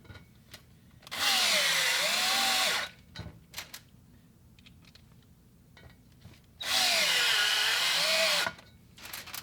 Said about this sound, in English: I'm just pre-screwing them